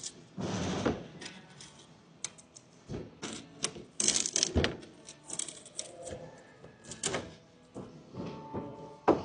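A sharp blade scrapes old silicone sealant off a caravan roof in a run of short, irregular scraping strokes with clicks and knocks, heard close up with no one talking.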